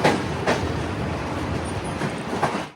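Poorna Express at Madgaon Junction, standing at platform 2 with a steady rumble of rail cars and station noise throughout, plus a few brief knocks and clatters rising out of the din.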